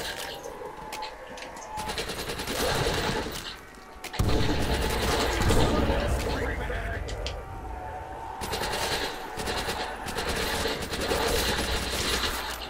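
In a World at War custom zombies map, a Chicago Typewriter submachine gun fires in sustained rapid bursts of dense automatic fire with short pauses, loud and close, with players talking over it.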